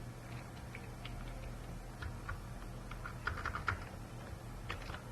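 Keys clack at a steady, uneven pace while someone types code on a computer keyboard, a close, quiet run of light taps with a few louder bursts toward the end.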